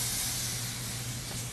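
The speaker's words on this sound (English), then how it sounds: "We're going to spray this real quick." Spray paint can hissing steadily at close range as silver paint is sprayed onto a glass Coke bottle, one continuous loud burst with no talk.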